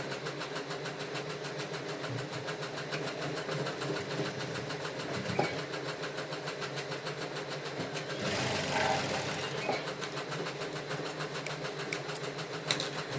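A sewing machine runs steadily while stitching the shoulder seam of a blouse, its fast, even mechanical chatter holding close and continuous throughout, with a brief louder burst partway through.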